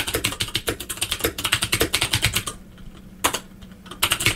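Rapid keystrokes clatter on a VIC-20 computer keyboard, a close, steady run of clicks that pauses briefly in the middle before a few more presses pick up again.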